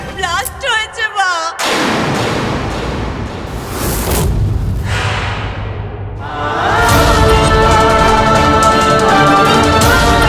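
A sudden loud blast erupts after a brief opening of sharp chirping tones, followed by a long rumbling roar and a swelling, dense dramatic crash in a Bengali television drama scene where a chariot was being decorated.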